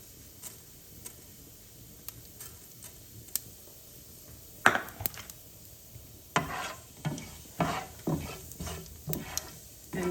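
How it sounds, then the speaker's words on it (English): Cumin seeds, one teaspoon, sizzling in hot oil in a pan, with crackling bursts that grow denser in the second half and occasional stirring clicks, close and fairly quiet with no talk. "So first I'm just gonna add the cumin seed, and we need to let that sizzle just a little bit."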